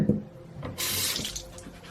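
Water gushes steadily from a tap after a few brief clunks while makeup brushes are rinsed, a loud continuous hiss filling the rest of the clip.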